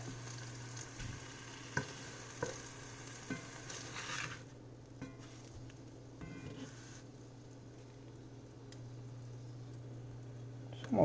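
Wild boar burgers frying in a pan, giving a faint, low sizzle with a few scraping clicks and taps as they are flipped, close but quiet.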